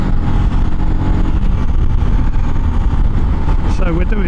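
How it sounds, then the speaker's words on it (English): Motorcycle riding at 70 mph into a headwind, a steady loud roar of engine and wind buffeting that fills the whole stretch without letup. "we're going to not only do 70 miles an hour on the motorbike, we've also got a headwind also"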